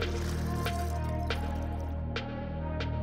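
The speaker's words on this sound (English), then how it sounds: "Then fill the bottle with cold water." Cold water runs into a transparent plastic bottle with a steady, close gurgling pour, broken by a few sharp splashy glugs at regular intervals.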